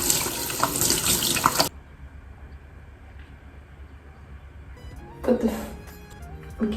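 Water gushes from a tap onto a foaming cleanser, a loud steady rush for under two seconds that cuts off abruptly, followed by quiet room tone and a brief later clatter.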